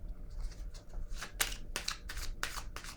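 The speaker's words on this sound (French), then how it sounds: "Je vais déposer une carte sur le conflit mental" Tarot cards being handled and laid down on a table, heard as a series of close, crisp slaps and snaps, about six distinct hits in quick succession over a low background hum.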